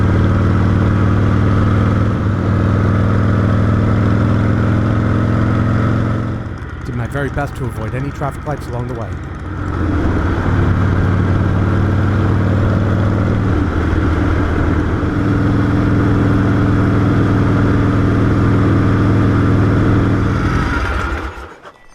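Steady engine drone of an AMF Shovelhead Lowrider motorcycle cruising on a test ride, loud and continuous with a brief dip midway, while someone talks over it throughout.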